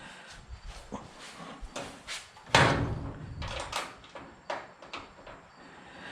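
A Husky metal cabinet door from Home Depot is worked on its hinges, giving a string of light knocks and clicks around one sharper, louder metallic closing clack, all close and without speech.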